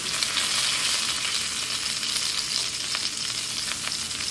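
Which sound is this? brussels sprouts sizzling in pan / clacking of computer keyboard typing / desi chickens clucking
brussels sprouts sizzling in pan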